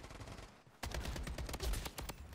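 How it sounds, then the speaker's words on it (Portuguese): A burst of rapid gunfire in the game Blood Strike breaks in after a brief quieter stretch, sharp repeated cracks continuing steadily, with a game-like mixed background. "Nossa, um tiro."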